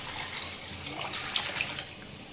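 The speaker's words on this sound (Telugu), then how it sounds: "సో వాటర్ యాడ్ చేస్తున్నారు." Water is poured into a pot of pepper rasam while it cooks, a steady close splashing flow with no talk.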